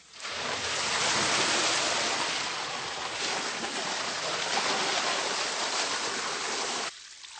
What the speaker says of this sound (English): The kerosene containing the coca alkaloid is skimmed off, and the rest of the chemicals poured away.